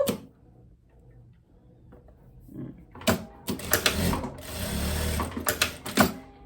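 A sewing machine stitching a closing seam on the reverse side of a long eyelet lace dress: quiet handling and faint ticks at first, then loud bursts of rapid stitching in short runs and pauses, close by.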